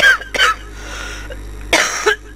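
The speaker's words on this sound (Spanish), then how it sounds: "Tengo una tos que parece un perro." A person coughs hard in short harsh bursts, two quick coughs, a pause, then two more, the dry barking rasp standing out over a low steady hum from a horror game.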